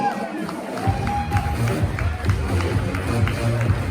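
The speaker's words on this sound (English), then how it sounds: "Give them a thunderous round of applause," An audience at an all-star nutrition seminar claps and cheers for the panel members, a loud, busy mix of applause, whoops and crowd noise that carries on steadily.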